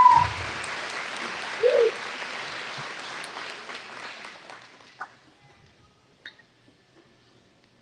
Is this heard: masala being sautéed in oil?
no